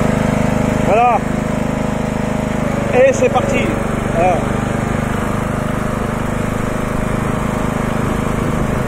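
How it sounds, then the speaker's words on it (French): A Stiga 3098H lawn tractor engine runs with a steady, loud drone that holds throughout, while a person talks briefly over it. "Ou bien la musique du tracteur."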